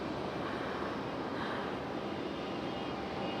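A fixed-wing airplane banks right as it flies past Raleigh-Durham International Airport, a steady, distant broadband engine roar that holds evenly throughout with no talk.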